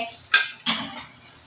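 A plate is picked up and set down in a home kitchen, making two quick ceramic clatters close by, the second ringing slightly longer, in otherwise quiet surroundings.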